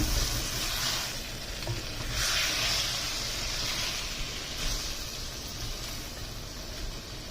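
Small fish curry with chili powder sizzles steadily in a pan, a loud continuous frying hiss with faint stirring scrapes, close by and without talk.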